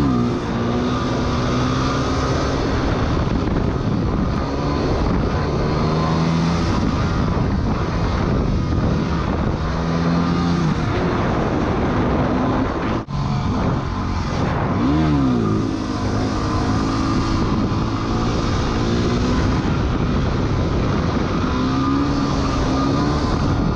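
A Yamaha WR250R dirt bike pulls wheelies in the woods, its engine revving up and down in repeated surges, loud and close with wind buffeting the microphone.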